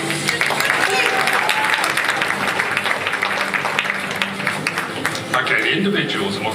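Sustained applause from an awards ceremony audience, steady and dense throughout, with a voice talking over the clapping.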